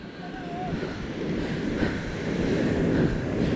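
Ocean waves wash steadily onto a shallow shore, a continuous broadband rush mixed with wind noise buffeting the microphone, swelling slightly louder toward the end.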